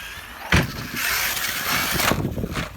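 Arrma Kraton EXB RC car with DBoot backflip wheels and tires driving up to a ramp and hitting it, its electric motor whining loudly and steadily with a sharp thump near the start and another burst toward the end.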